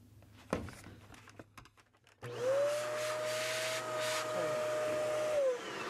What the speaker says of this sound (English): Let's see if it works here.